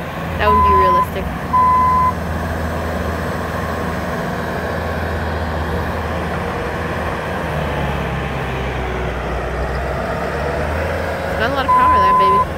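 Bobcat T-770 skid steer loader moving snow, a steady loud diesel drone from close by, with repeated electronic reversing beeps at the start and end.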